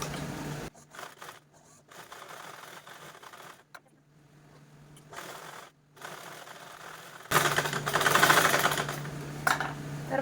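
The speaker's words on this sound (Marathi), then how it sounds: "अगोदर आपण या दोन्हीकडं स्टिच करून घेता येईल" Sewing machine stitching both sides of a fabric purse, running in several bursts of steady motor whir separated by pauses, with a louder, faster run near the end.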